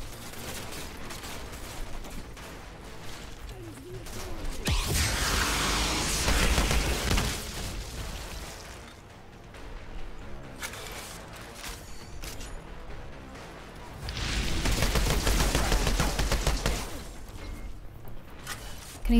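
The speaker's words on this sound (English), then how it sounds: "There are so many people shooting at me right now." Enemies firing guns in the shooter game Outriders, heard as two dense bursts of overlapping gunfire separated by quieter stretches of scattered shots and game ambience.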